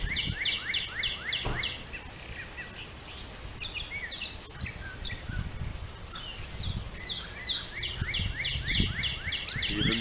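Birds singing steadily outdoors with repeated chirping phrases and tweets throughout, fairly close, over low background rustle and occasional soft thumps.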